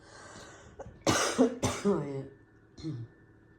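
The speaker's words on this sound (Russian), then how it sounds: "кашель душит" A sick woman coughs hard, close up, in a few harsh throat-clearing bursts followed by a smaller cough near the end, over faint room noise.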